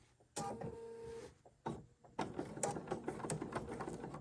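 Sewing machine stitching a quilted Dresden pillow near the zipper, running in short close bursts: a quick run, a pause, then a longer stretch of steady mechanical whirring and clatter with no voices.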